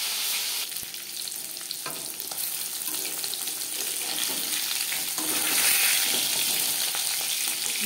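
Fish sizzles and crackles steadily in hot oil in a pan while being fried for a fish curry. The frying is close and fairly loud, with a few clinks near the start and no voices.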